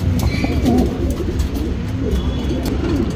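Male jack pigeon with a gold shade coo, a low rumbling call repeated through the clip at close range over steady background noise.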